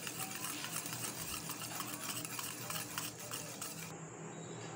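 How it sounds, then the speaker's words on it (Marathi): Omelette batter with chopped coriander being stirred and whisked in a bowl, a quick continuous scraping and clinking of utensil against the dish, fairly quiet and close, with no talking. "आता हे सर्व साहित्य आपण व्यवस्थित मिक्स करून घेऊया"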